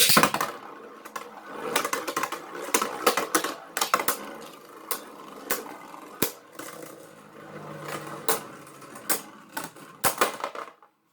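Beyblade Burst spinning tops, a wind version against Typhoon, launched and clashing in a stadium, with rapid irregular clicks and sharp scraping hits over a steady whirr, close and fairly loud for about eleven seconds.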